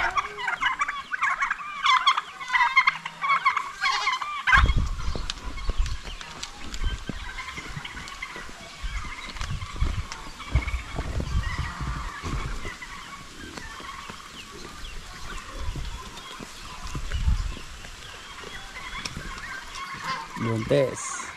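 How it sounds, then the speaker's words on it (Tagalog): Turkeys gobble repeatedly on a farm, loud and close, with bursts of rustling and handling noise and a few spoken words in Filipino mixed in. "Bully yung mga ibang pabo natin."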